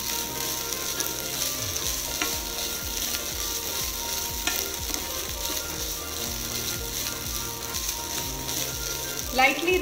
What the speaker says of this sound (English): Lightly roast the coconut.